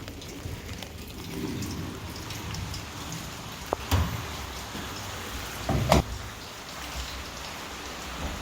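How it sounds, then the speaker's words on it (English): Steady rain drums on a small garage with ventilation holes, a dense close patter that carries through the whole stretch, with a couple of sharper knocks partway through and no voices. "it's a little bit noisier in here with the rain"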